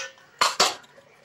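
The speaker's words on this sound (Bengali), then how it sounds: "তারপরে প্রেশারটা ঢাকনা বন্ধ করে" A pressure cooker lid being closed in a home kitchen, heard as two quick, close metallic clanks about a fifth of a second apart, with quiet background in between.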